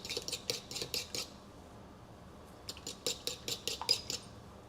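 A fork whisks seven eggs in a bowl in two quick bursts of rapid, rhythmic metallic clicking, separated by a short pause, close and fairly faint.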